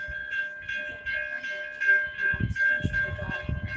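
A freight train rumbling past with a steady high tone and rhythmic low thumps of wheels, fairly close, growing heavier toward the end.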